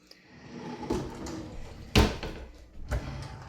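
A kitchen drawer in an organized home slides open, giving a few close knocks and rolling rumbles, with one sharp thud in the middle and a softer bump near the end.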